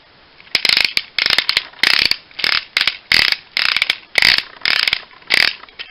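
Ratcheted joints on a Generations Roadbuster transformer toy are clicked through in about a dozen short bursts of sharp plastic ratcheting, evenly paced and close up.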